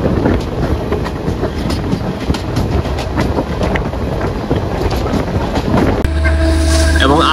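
Passenger train running on the Banihal to Srinagar rail line in Kashmir, a loud continuous rumble with rattling carriage noise and wind buffeting, then a sharp change to a quieter, steadier tone near the end.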